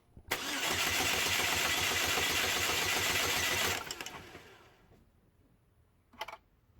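A 2006 Chevy Cobalt 2.2L engine with the ignition module and coils removed cranks steadily for about three and a half seconds during a compression test, a rhythmic starter churn that stops abruptly, followed by a few faint clicks.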